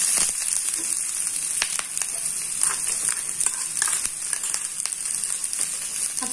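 Capsicum is tipped into a pan of cabbage for chicken spring roll filling and fries over a low flame, giving a steady soft sizzle broken by light clicks and scrapes, close up with no talking.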